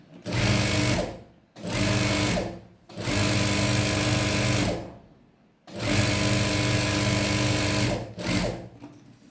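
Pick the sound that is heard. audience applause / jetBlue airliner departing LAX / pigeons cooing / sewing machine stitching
sewing machine stitching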